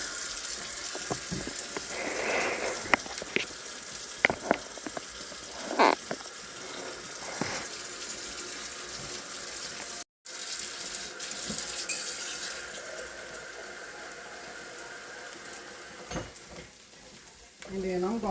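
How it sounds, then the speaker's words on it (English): Onions and BBQ sizzle and fry in a pan, a constant crackling hiss close by, broken by scraping stirs and clatters of a utensil against the pan throughout. "Fry it up like that right there with them onions."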